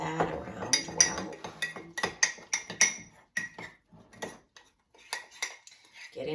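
A spatula scrapes and clinks against the sides and bottom of a mug while mixing flax muffin batter, giving irregular close taps and scrapes in quick bursts with short pauses.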